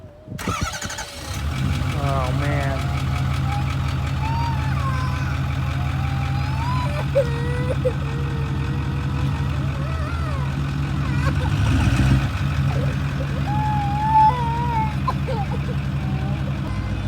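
A truck engine turns over and settles into a steady, loud idle that runs continuously, with people talking over the rumble.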